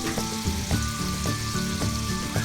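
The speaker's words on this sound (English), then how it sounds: "So right now I have the salami, the sofrito, and it's stir frying." Steady sizzling and crackling of sofrito and salami stir-frying in a hot pan, with a rhythmic scraping of stirring every half second or so, close and loud.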